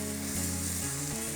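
Food fries in a pan with sauce to follow, giving a steady, close, dense sizzle and crackle with no talk.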